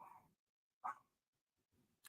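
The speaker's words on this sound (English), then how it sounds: "Sorry about my dogs." A few dogs at home bark in short separate bursts: one bark, a pause, another, then faint yips and a sharp final bark, fairly close in a quiet room.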